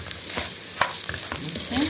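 Meat and chicken sizzle and fry in a tagine while being stirred, a steady crackling hiss broken by a few sharp scrapes and clinks of the spoon.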